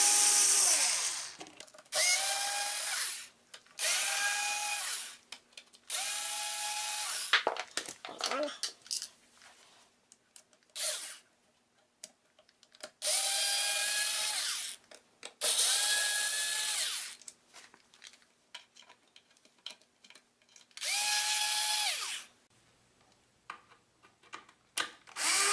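Power drill removing the chassis screws from a guitar amp, whining in several separate bursts of a few seconds each with quiet handling clatter in between, close up.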